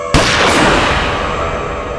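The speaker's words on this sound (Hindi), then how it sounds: "फिर मैंने गोली चलने की आवाज सुनी।" A single sharp gunshot cracks loudly, followed by a long booming echo that slowly fades.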